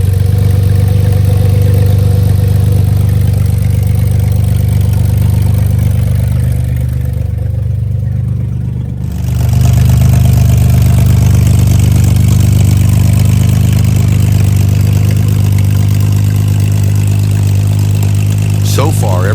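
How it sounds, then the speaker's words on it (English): A Porsche 911 engine idling after restoration work, a loud, steady low-pitched hum that dips briefly then resumes, with a voice talking over it. "Start the engine and let it run"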